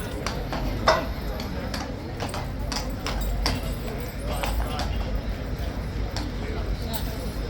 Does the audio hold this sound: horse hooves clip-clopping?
yes